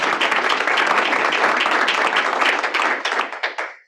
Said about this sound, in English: let's give the ALC a round of applause